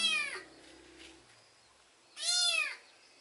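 A small wet cat caught in water gives two clear, plaintive meows, one at the start and a louder one near the end, with quiet background between.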